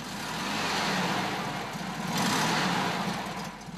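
A vintage Volkswagen T1 bus with a 1.2-liter, 34-horsepower engine drones steadily nearby, a rough mid-pitched motor rumble that rises slightly in the middle, with no talk.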